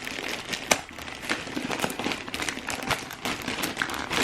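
Cellophane wrapping crinkles and crackles as a fabric gift is unwrapped, a continuous close rustle with sharper crackling bursts.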